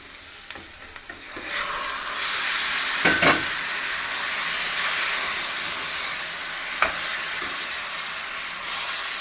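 Chicken fries loudly in a pan with onions, cumin and paste, giving a strong steady sizzle and hiss throughout, broken by a few sharp clatters of stirring, with no voices.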